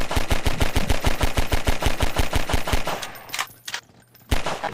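A submachine gun fires in the video game Garry's Mod, a rapid even burst of about twenty loud close shots, then the firing stops into quieter clatter and a final single report.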